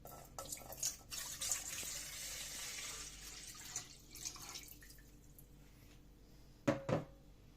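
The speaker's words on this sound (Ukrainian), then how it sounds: "Для маринаду нам потрібно літра водички. Ось, ми вливаємо." A liter of water poured into a container for a fish marinade in a home kitchen, a soft liquid splashing and trickling with a few sharper drips and clatters, fairly faint and close, with no talk.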